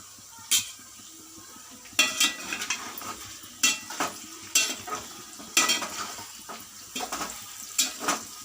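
Tomatoes dropped into hot oil with curry leaves and green chillies for an eggplant masala curry, giving repeated sharp scrapes and clinks of a utensil against the pan over a soft sizzle, with no talking.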